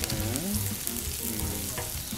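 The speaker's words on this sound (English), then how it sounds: "Saute our garlic, right? Until it's" Garlic sizzles as it sautés in a pan for paella, a busy crackling fry that stays close and continuous, with some stirring and tonal background hum mixed in.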